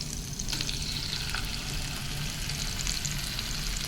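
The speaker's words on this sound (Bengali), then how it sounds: "একদম অল্প তেল দিয়ে মাছগুলোকে যাই হোক একটু লাল লাল করে" Fish frying in a small amount of oil gives a steady, close sizzle with light stirring scrapes mixed in, running continuously with no talk.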